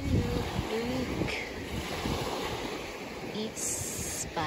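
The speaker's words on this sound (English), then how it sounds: "And you hear the waves." Ocean waves wash in at the beach on a windy evening in Norway, a broad steady surf roar with wind noise on the microphone and faint background sounds throughout.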